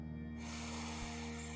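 A slow, deep inhale through the nose during a mindfulness breathing exercise, one sustained airy hiss that starts suddenly and holds steady, close over a low hum.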